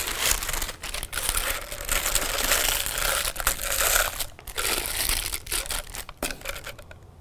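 Disposable plastic piping bag crinkling and rustling up close while being handled and filled with cookie icing, a run of uneven crackly bursts with brief pauses, no talking.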